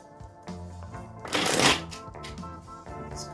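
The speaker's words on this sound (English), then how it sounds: "These cards are shuffling weird today." Tarot cards are shuffled by hand in one brief, crisp riffling burst over faint background music.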